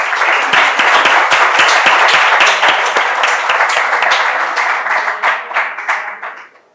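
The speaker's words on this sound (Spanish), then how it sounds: "te damos un fuerte aplauso" Audience applause at a contemporary-thought colloquium, a dense burst of many hands clapping loudly, then gradually thinning and fading out toward the end.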